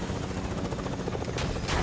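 Rapid bursts of gunfire in the video game Fortnite, a dense continuous stream of shots at moderate loudness with no speech over them.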